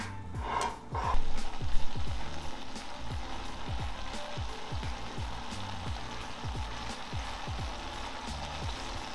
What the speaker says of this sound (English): We're gonna give it a little bit of a sear